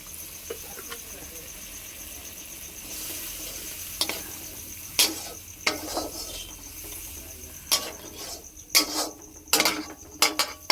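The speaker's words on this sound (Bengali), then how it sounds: "মশলাটা ভালোভাবে কষিয়ে নেব" Tomato masala fries in a pan while a spoon stirs it, giving a low sizzle under intermittent scraping and clinking strokes that grow louder and more frequent toward the end.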